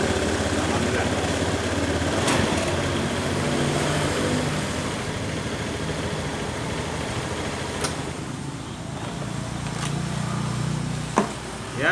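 Honda Beat ESP scooter engine idling after a starter repair, a steady close low putter with a few sharp clicks and knocks, faint voices talking underneath.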